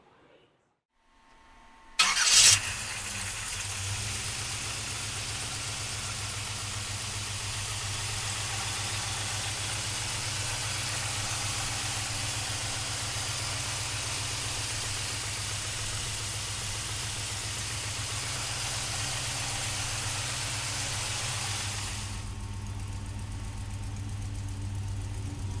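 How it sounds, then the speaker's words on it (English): A 1956 Chevrolet Bel Air engine cranks and catches with a sharp burst, then settles into a steady, even idle that runs for over twenty seconds with no talk. "let's listen to the engine run."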